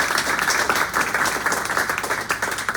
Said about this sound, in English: Let's give them all a round of applause because they were all terrific